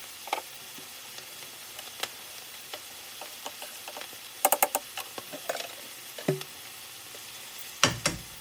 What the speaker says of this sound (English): Add butter into the pan and let it melt in the heat.